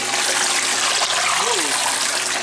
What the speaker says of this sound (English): the third and final spin that this washer does